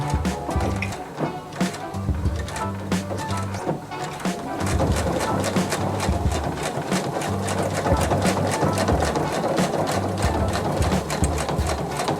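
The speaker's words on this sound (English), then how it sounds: "that sits along the edge of my fabric to help me keep a very straight line as I'm sewing" A sewing machine stitches fabric for mask making, a rapid steady mechanical chatter of the needle that runs loud and close, pausing briefly early before picking up again and running continuously.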